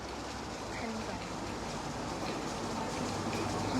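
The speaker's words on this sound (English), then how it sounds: "Here is our train to take us to Penzance." A Great Western Railway train bound for Penzance in Cornwall idles at a station platform, giving a steady, fairly quiet rumble and hiss with no clear voices.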